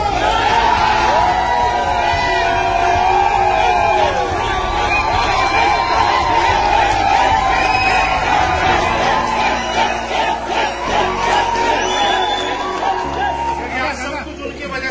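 An audience at a company motivational gathering cheers and shouts with loud crowd noise, a voice ringing over the babble, fading slightly toward the end.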